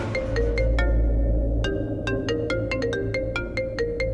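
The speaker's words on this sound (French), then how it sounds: "Oh, Prita, décroche-moi ce téléphone juste une fois, s'il te plaît." A mobile phone ringtone plays a bright, repeating electronic melody of short tones, loud and steady for the whole stretch over a low background rumble.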